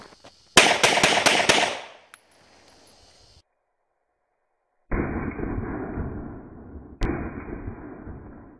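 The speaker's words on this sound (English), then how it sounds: "to start the destruction of this book, I'm going to start with my trusty Glock 19 9mm." A Glock 19 9mm pistol fires five sharp, close shots in a quick burst at a book, followed by quiet and then a steady stretch of broadband noise.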